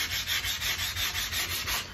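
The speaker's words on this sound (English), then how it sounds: "you're just shaping the stone to that plate on the 60 grit" A whetstone hone being shaped by rubbing it back and forth across a 60 grit plate, giving steady, close, gritty scraping strokes in an even rhythm, about eight passes with no talking.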